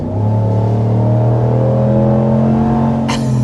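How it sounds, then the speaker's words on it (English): A 2026 Ram 1500 Limited pickup with the HEMI V8 pulling hard up to 60 mph, a loud, steady, deep engine drone heard from inside, with a brief burst of noise near the end. "That was 60 miles an hour with the V6. I'm just kidding. That's the HEMI."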